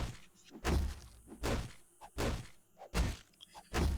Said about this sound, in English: Let me punch down a tree.